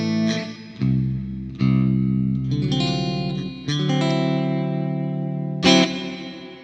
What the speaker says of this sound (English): the reverb is nice and big there